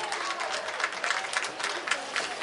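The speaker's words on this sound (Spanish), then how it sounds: "Más fuertes aplausos entonces a los terceros campeones de este rollo." A crowd at a Chilean rodeo championship ceremony claps steadily for the third-place champions, a dense, continuous patter of applause with no pauses.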